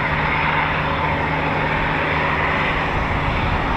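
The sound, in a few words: Eurofighter Typhoon FGR4 jet at RAF Coningsby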